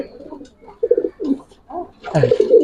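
Racer pigeons cooing in a loft, with males fighting among them: a few throaty, close coos in short bursts, ending in a louder burst of cooing and scuffling.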